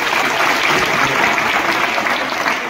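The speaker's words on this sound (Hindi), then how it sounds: "साहित्य जोरदार तालियां।" Loud, continuous applause from an audience at a personality-development guidance talk, dense clapping that holds steady for a few seconds with no talk over it.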